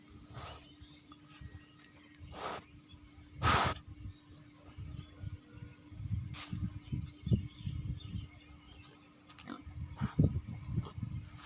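Piglets on a farm in Gazipur, Bangladesh grunt and squeal, with soft repeated oinks throughout and a few louder squeals standing out, close by.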